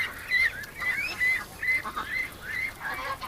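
An injured duck with bite wounds gives repeated short, hoarse honking calls in a rapid irregular series, close and fairly faint.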